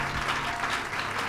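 A church congregation applauding during a service, dense steady clapping from many hands that fills the room for a brief moment, with no speech.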